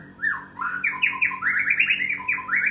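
A white-rumped shama (murai batu), a regional competition songbird, sings a loud, close, unbroken run of rapid rising and falling whistles and sharp chirps.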